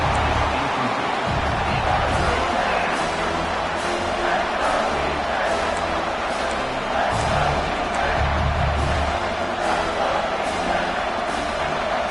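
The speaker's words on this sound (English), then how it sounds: "the crowd coming to life here, trying to help this defense down in the red zone" A stadium crowd in an American football video game roars steadily throughout, a dense, continuous wash of cheering under commentary during a red-zone defensive stand.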